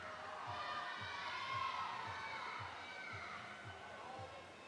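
Crowd cheering and shouting fills a swimming pool hall at a long course regional championship, a steady loud roar with excited voices throughout and a faint rhythmic thumping underneath.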